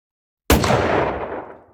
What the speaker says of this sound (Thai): เสียงปืนดังขึ้นหนึ่งนัด